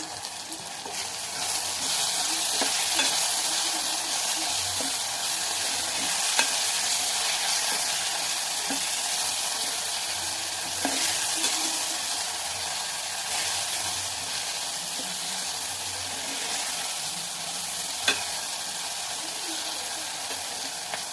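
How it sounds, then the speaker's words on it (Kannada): Hubli-style dry red chilli powder and turmeric being stirred into mixed dal sambar in a pan, a steady close scraping and sizzling that runs throughout with a few louder spoon knocks. "ಇದನ್ನೆಲ್ಲ ಚೆನ್ನಾಗಿ ಈಗ ಮಿಕ್ಸ್ ಮಾಡ್ಕೊಬೇಕು"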